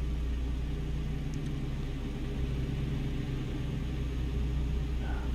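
Truck engine floored in American Truck Simulator: a steady, deep, droning rumble held at constant loudness throughout, with a strong low hum and no change in pitch, close and continuous with no talking.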